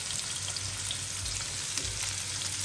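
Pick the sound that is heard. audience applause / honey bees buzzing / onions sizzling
onions sizzling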